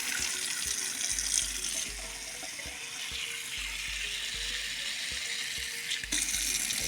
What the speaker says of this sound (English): now let me add some water to the string bean